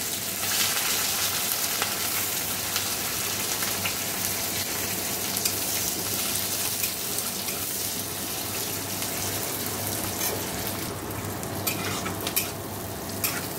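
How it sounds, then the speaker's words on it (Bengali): Chopped onions frying in hot oil in a pan while cooking chow mein, a loud continuous sizzle and crackle close up, with occasional stirring scrapes toward the end. "দেখো ভালো করে পেঁয়াজটা ভেজে নেব"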